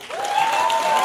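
A television game show studio audience applauds steadily, with a continuous clatter of clapping that stays fairly loud throughout and is joined by a sustained tone.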